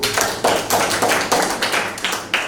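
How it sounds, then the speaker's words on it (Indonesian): A class claps together in a classroom: about eight quick bursts of hand claps in a steady, close, moderately loud rhythm, with no talking. "Kasih tepuk tangan"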